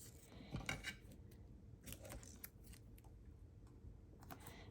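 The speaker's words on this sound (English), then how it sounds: "I'm using my microtip scissors" Microtip scissors snip through sticky scrapbook material in a few quiet, close, crisp cuts separated by pauses, faint overall.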